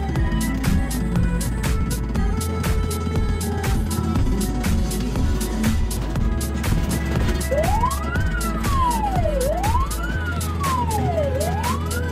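An ambulance on an emergency call in Heathfield, responding to a person struggling to breathe, sounds its siren. Road and engine rumble come first, then a loud, close two-tone wail sweeps up and down several times.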